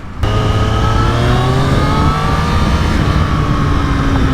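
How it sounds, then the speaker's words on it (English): A 2024 Triumph Street Triple R motorcycle engine revs loudly and close by, its pitch climbing smoothly and steadily over several seconds with a strong continuous drone and no voices. "Ah, this motor sounds so good."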